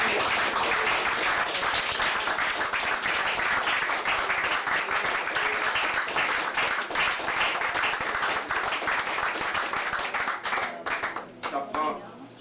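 Loud, dense applause and clapping from a congregation at a church praise evening, sustained and thick before thinning out near the end.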